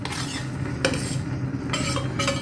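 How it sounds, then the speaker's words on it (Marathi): Millet flour being tipped into boiling water in a pot and stirred, with steady scraping and clinking of a spoon against the vessel over a low bubbling bed, close and alone. "आता याच्यात मी टाकते पीठ हे जे आपण काढून ठेवले आहे"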